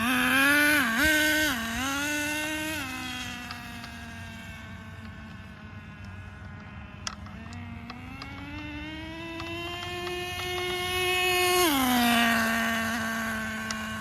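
A rebuilt Traxxas 4Tec RC car on a test run, its small engine whining and revving continuously, the pitch rising and falling through throttle changes, close and alone with no talk.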